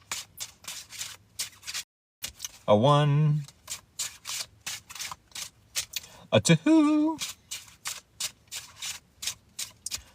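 Tarot cards are riffled and shuffled by hand in rapid, rhythmic bursts of soft rubbing and flapping, close and fairly quiet, while a voice counts briefly in between.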